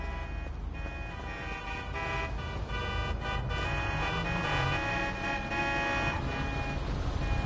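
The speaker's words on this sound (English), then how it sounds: "Sitting in traffic, man. The great Los Santos pastime." Busy traffic in Los Santos in the video game GTA V: car horns toot repeatedly and in overlapping bursts over a constant rumble of idling and passing engines, loud and close.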